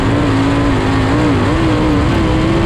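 A 1,400-pound, 900-plus horsepower V8 sprint car screams at about 9,000 RPM while lapping a speedway, a loud, sustained engine howl that wavers slightly in pitch, heard from on board with no talking.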